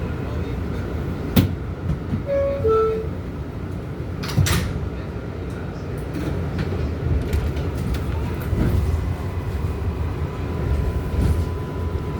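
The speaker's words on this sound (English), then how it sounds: "This is a Flushing Main Street bound 7 skip stop train." An R188 NYC subway 7 skip-stop train rides toward Flushing–Main Street: a continuous rumbling rail roar with clanks and brief squeals of wheels, steady and close throughout.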